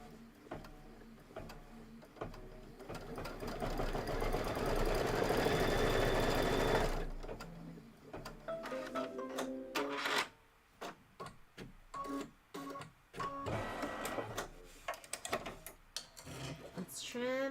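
A Kimberbell embroidery machine runs a trim placement stitch in one steady, loud mechanical whir lasting several seconds, then stops and gives way to scattered clicks and handling knocks.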